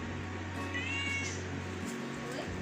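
Kittens meowing indoors, a couple of thin high mews standing out over a low steady hum, fairly quiet and close.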